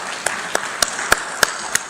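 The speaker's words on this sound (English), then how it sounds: "Can you have a big round of applause" Audience applause at an international mediation conference in Visakhapatnam as a justice is welcomed to the dais: a wash of crowd clapping with about six louder individual claps standing out at a regular pace.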